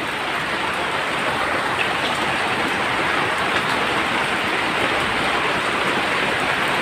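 A sprayer mists fungicide-bacteria treatment over aglonema plants' stems and leaves in the rainy season, a steady, loud hissing spray continuing evenly and close up without pause.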